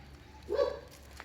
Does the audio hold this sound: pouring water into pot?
no